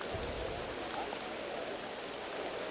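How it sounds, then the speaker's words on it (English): Heavy rain pours down steadily on a golf course during a professional tournament, a constant soft hiss of falling water with no distinct drops standing out, fairly faint and unbroken throughout. "as the rain thunders down"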